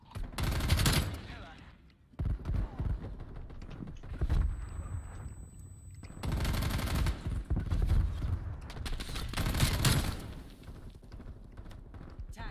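Video game gunfire comes in loud, rapid automatic bursts separated by brief gaps, with repeated volleys dominating close up throughout.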